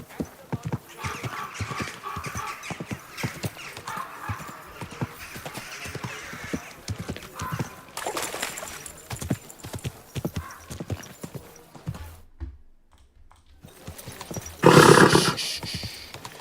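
Horse hooves clip-clop in a steady walking rhythm throughout Kingdom Come: Deliverance II, with soft ambient game sound underneath, a brief hush near the end, and then a louder burst.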